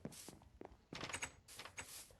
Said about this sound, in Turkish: Gel kapıyı kapatak.